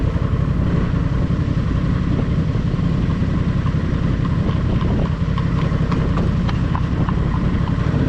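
Horses' hooves clip-clop past idling motorcycles on a trail ride in Ohio, a steady rhythm of hoof strikes over a continuous low engine rumble close by.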